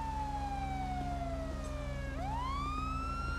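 Police car siren in the video game GTA V during an LSPDFR beach patrol, a loud continuous wail that sweeps slowly down, then rises again, over a steady engine idle.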